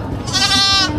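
A goat, one of several for sale as livestock, gives a single loud, close, quavering bleat lasting about half a second over faint background noise.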